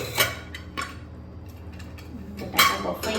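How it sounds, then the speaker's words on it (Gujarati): A pressure cooker of boiled potatoes being opened, with a few sharp metallic clanks and clatters of the lid and pots spaced across a quiet kitchen, the loudest knock near the end, and no talking. "ઓકે મિત્રો કુકર ઠંડુ થઈ ગયું છે। હવે આપણે ખોલીને ચેક કરી લઈશું।"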